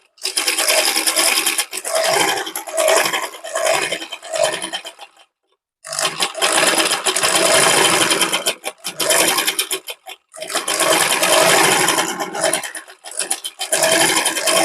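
A domestic sewing machine stitches peacock-feather embroidery leaves, running loudly and steadily in long bursts separated by a few short pauses.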